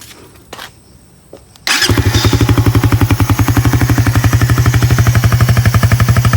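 A Raider 150 motorcycle with a black stock air filter starts after a few quiet knocks and settles into a steady, loud idle, its rapid even pulsing engine beat running close to the microphone.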